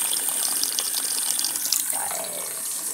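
Tap water running in a steady splashing stream to fill a small cup, continuous and close, with no talking.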